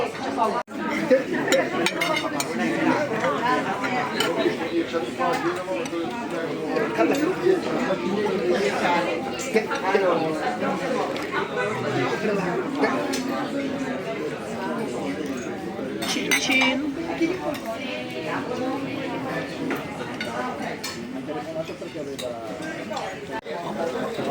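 A packed restaurant in Italy on a busy weekend fills with loud, dense overlapping chatter, while cutlery, plates and glasses clink and clatter close by throughout.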